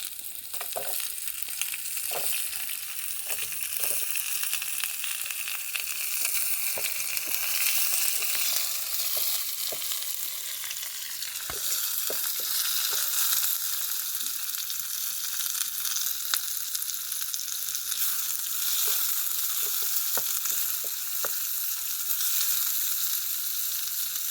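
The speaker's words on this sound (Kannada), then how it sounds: "ಈಗ ಚಿಲ್ಲಿ ಫ್ರೈ ಆಗಿದೆ. ಆನಿಯನ್ ಹಾಕ್ತೀನಿ" Chilli and onion frying in a pan during farm cooking of a chicken pepper dry, a steady bright sizzle running throughout with occasional sharp crackles and pops, close and fairly loud, no voices.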